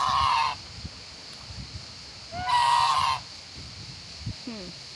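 Geese honking loudly in two bursts at an animal refuge, harsh nasal calls up close as they chase other birds, with quieter bird sounds and faint outdoor background between.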